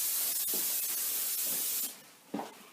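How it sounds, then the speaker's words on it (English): Non-stick cooking spray hisses into a baking pan as a steady broad spray for almost two seconds, then stops, followed by a brief clatter; no talking. "So I'm giving it a good spray."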